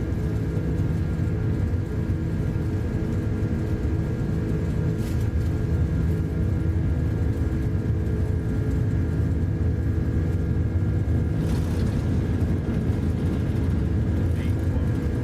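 Inibuilds Airbus A330 engines in Hawaiian Airlines livery spool to takeoff thrust in Microsoft Flight Simulator 2024, a loud, steady low rumble that holds unbroken throughout, with talking over it.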